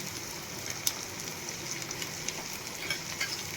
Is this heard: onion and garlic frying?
yes